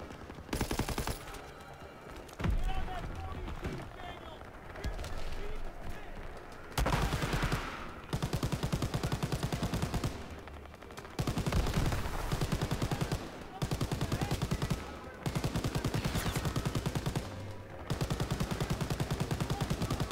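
A mounted MG in Call of Duty: WWII hammers out loud, close bursts of automatic fire, each lasting a second or two and separated by short pauses, repeating steadily throughout.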